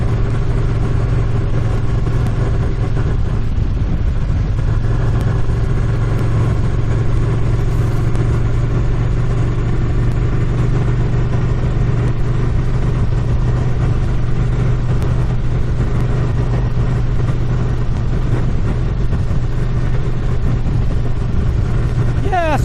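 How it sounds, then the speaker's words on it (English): A steady engine drone rolls on without a break, loud and close, like a motorcycle cruising along at an even speed. "I'm still riding a motorcycle"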